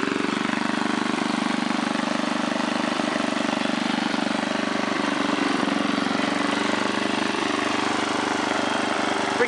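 A 1978 John Deere Tecumseh small engine runs loud and close in a continuous, steady drone throughout, with no talking.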